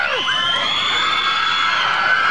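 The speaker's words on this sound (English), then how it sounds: "People screaming over entertainers." A studio audience of women on the Arsenio Hall Show in 1989 screams and cheers loudly and continuously, high-pitched whoops blending into a sustained roar of excitement.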